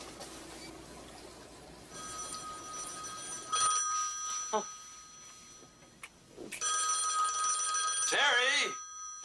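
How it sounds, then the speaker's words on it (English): A telephone bell rings in repeated bursts in a home setting, the trills coming and going at moderate loudness over a faint room background, with a brief sound in between. "answer the phone"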